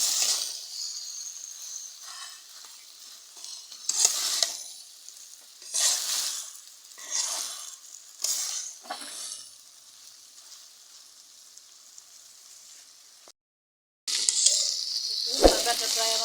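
Sliced bitter gourd (karela) frying in a pan and stirred often, with a steady hiss broken by short bursts of scraping as the spatula turns it, then a brief pause before the sizzle returns louder.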